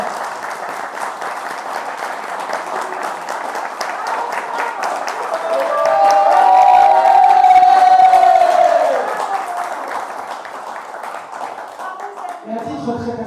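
Wedding guests burst into loud applause and cheering, the clapping swelling to a peak with a sustained whoop in the middle before easing back to steady clapping, voices mixed in.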